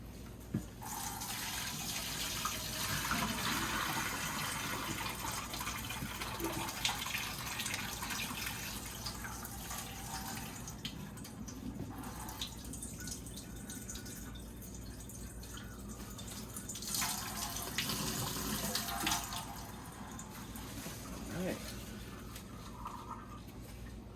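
Water trickling and dripping steadily as an Aerogarden Bounty hydroponic unit is drained into a sink, a continuous wet flow with a few louder splashy surges, no talking.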